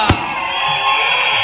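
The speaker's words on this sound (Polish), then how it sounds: "Wielkie brawa" A concert audience cheers and whoops in a sustained, even wash of crowd noise, moderately loud and somewhat distant, with a sharp thump near the start.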